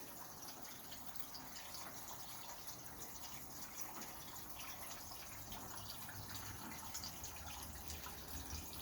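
A cobbled-together backyard water fountain runs in a steady, faint trickle and splash of falling water, continuous and fairly distant-sounding with no voices.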